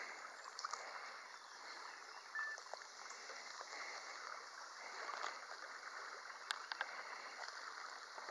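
River water flows steadily on the Conasauga River in Georgia during a kayak trip, a faint, even rushing with small gurgles and no voices.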